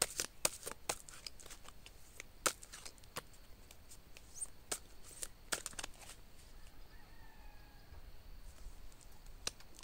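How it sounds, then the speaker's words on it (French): A deck of tarot cards is cut and handled up close, giving a quick series of crisp clicks and snaps over a quiet room. "Allez, je fais une coupe."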